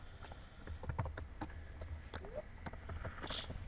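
Someone types on a computer keyboard while writing C++ code, producing light, irregular keystroke clicks at close range over a quiet background hum, with no talking.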